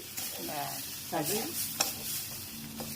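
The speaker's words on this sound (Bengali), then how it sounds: "তেলে জ্বালা করে কন্টিনিউসলি একদম মিলাতে থাকতে হবে ভাজা ভাজা করে দিলেই" Plantain peel paste fries in hot oil while being stirred continuously, giving a close, steady sizzle with scraping spoon strokes and a few sharp clinks against the pan.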